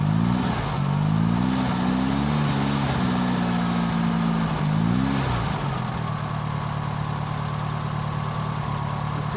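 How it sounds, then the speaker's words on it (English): Car engine running cold after a cold start with no choke, idling unevenly with a surging low rumble for several seconds before settling into a steadier, lower idle, heard close and alone. "so that's the car's just running cold"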